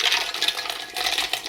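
Water streams steadily into a pot, a close, continuous splashing rush filling the short moment without any voices.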